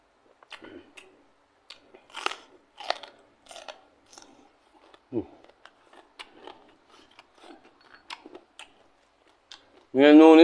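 Someone chews and eats beef dipped in a bitter jaew pei sauce, with soft wet chewing and biting bursts scattered through the clip, close to the mic. Talk comes in between the bites.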